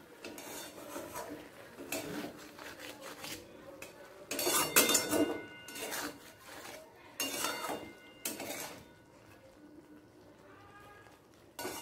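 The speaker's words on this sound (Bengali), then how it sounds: "একটু ওপর নিচ করে দিলাম।" Egg poppy-seed curry being stirred in a pan, heard as scraping and clinking of a spatula against metal in irregular bursts, with quieter gaps between and faint background noise.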